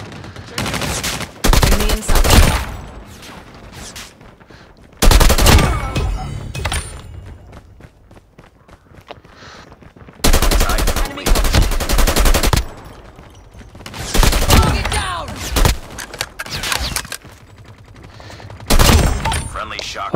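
Bursts of automatic gunfire from the mobile shooter game COD Mobile, loud and close, arriving in several separate volleys of a second or two each with quieter gaps between them.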